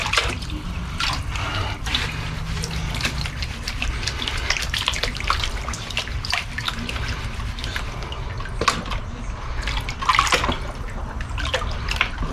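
Gold-banded ore being panned with water in a small clean-up pan: steady sloshing and trickling water with scattered splashes and drips, fairly close and continuous throughout, with no talking.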